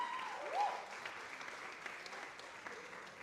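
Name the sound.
audience applause at an awards dinner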